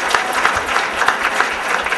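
Conference audience clapping in a short, dense burst of applause from a crowd, fairly close and even, with no talk over it.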